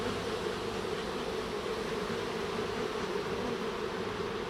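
Honey bees buzz steadily at an open hive during queen grafting, a dense continuous hum close to the listener with no talking.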